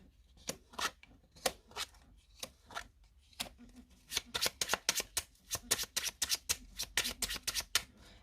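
Playing cards are handled, snapped and laid down one after another in a tarot reading, a quick run of crisp close slaps and flicks that grows busier and denser in the second half, with faint voice traces underneath.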